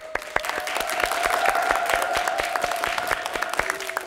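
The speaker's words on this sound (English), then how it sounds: "let's give them another warm round of applause." A studio audience on a children's TV quiz show gives a warm round of applause. Sharp individual claps sound over a steady wash of clapping, with a faint tone held underneath.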